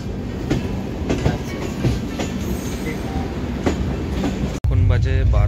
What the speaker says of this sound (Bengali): ট্রেন ছেড়ে দিল অযোধ্যা ধাম জংশন থেকে